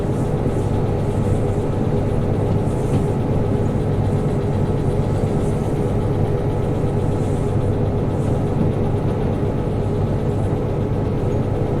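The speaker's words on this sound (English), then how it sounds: "You can just hear all the rails grinding back here." Flat cars hauled by a train in the Derail Valley game send a continuous, loud metallic grinding and rumbling along the rails, with a steady engine drone underneath and no pauses.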